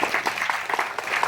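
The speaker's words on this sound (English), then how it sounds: "A big applause for him." A short burst of audience applause for Rafsanjani at a motivational talk, dense overlapping claps of a moderate crowd, fairly close and steady for just over a second.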